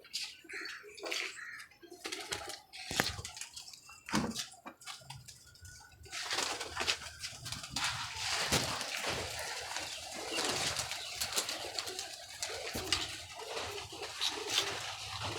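A golden pigeon coos and shuffles close by, soft bursts and rustles broken by pauses early on, then a denser stretch of rustling and cooing that continues steadily to the end.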